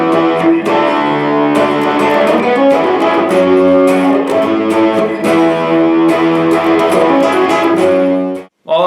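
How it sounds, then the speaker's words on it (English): Electric guitar fills from a second guitar part, played with effects and light distortion: dense, ringing notes and chords sounding steadily up close, cutting off just before the end. "On the 2nd guitar part, you can throw in little fills that sound like this."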